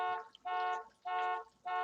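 An electronic alarm beeps in the background in long, evenly spaced tones, three full pulses with steady pitch, moderately faint and alone.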